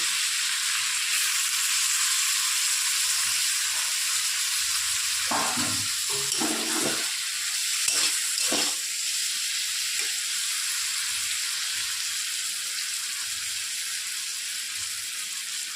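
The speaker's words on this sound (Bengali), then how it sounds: "লাল লাল করে ভাজা হয়ে গেছে, এর মধ্যে এখন আমি পেঁয়াজগুলোকে দিয়ে দেবো।" Onions tossed into a pan of hot oil just after prawns were fried red, giving a steady close sizzle with a burst of louder crackling and stirring in the middle, no talk.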